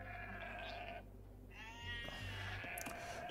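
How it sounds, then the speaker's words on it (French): Sheep in the video game Age of Empires 2 let out a couple of short, faint bleats over quiet game background sounds, with no speech. "Des moutons, des moutons."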